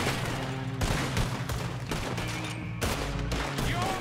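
Heavy gunfire from the video game Red Dead Redemption 2 rattles in dense, overlapping volleys with loud booming shots, continuing throughout with little pause.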